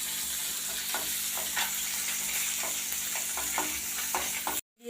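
Small hilsa fish and dried red chillies frying in hot oil, a dense constant sizzle with a few light scraping stirs, close up, ending abruptly in a brief silence.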